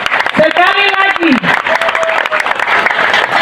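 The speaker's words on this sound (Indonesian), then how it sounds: "Mari tepuk tangan buat kita semua yang keras." Applause from the audience at a regional head candidates' political rally in Manokwari, Papua, sustained broad clapping with a harmonic voice or tone over it early on, fairly loud and continuous throughout.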